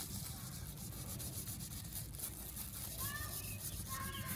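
Polish being rubbed by hand onto a car headlight during a cheap at-home restoration: a steady, close scrubbing friction that runs throughout, with faint thin squeaks near the end.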